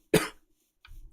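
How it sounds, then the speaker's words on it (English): A single sharp, close cough from a person with a tickle in the throat, followed by a softer breathy sound. "I'm coughing a lot today."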